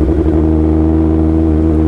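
600cc motorcycle engine sputtering and bogging as it revs, loud and close with a rough, steady rumble and no talk.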